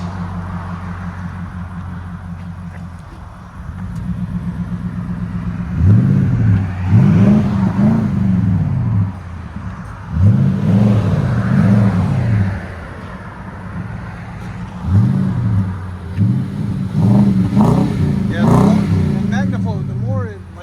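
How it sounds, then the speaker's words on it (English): A 2017 Nissan Titan SL 5.6L V8 pickup with a 14-inch Magnaflow exhaust revs hard in four or five deep, throaty rising bursts, settling to a rumble between each, loud and close. "the nice thing about MAGNAFLOW, you don't hear them at idle, only when you get on it"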